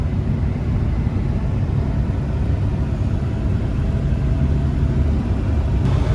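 A car driving on a two-lane highway in eastern Colorado, heard from inside as a constant loud low road rumble and engine drone with no breaks.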